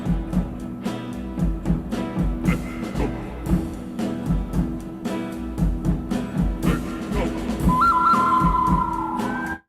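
Whistled melody from a coyote-howl-inspired theme, carried over rhythmic music with a clear sustained whistle line rising near the end, loud and close.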